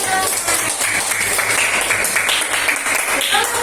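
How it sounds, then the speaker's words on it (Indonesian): Classroom applause from a sixth-grade class, a steady patter of many small hands clapping with children's voices mixed in, fairly loud throughout. "Loh, tepuk tangannya."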